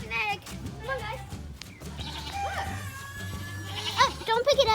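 Goats bleating on a farm, several short wavering calls near the start and a louder cluster toward the end, with children chattering over them throughout.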